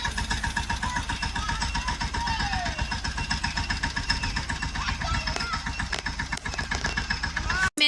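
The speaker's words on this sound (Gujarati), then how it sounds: "વેદુભાઈ ને ટ્રેક્ટર આવડી ગયું" A tractor's heavy diesel engine idles steadily and loud throughout with a rapid, even chugging rhythm, then cuts off abruptly right at the end.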